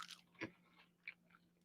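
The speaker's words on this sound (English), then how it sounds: "I love my chicken wings crunchy." Crunchy chicken wings bitten and chewed close up, a sharp crunch near the start followed by a couple of softer crunchy bites, quiet and without talk.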